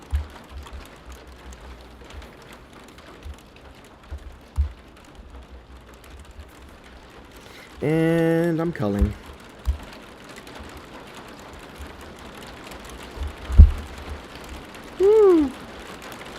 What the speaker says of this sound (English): I know you can hear that rain. It sounds like big drops.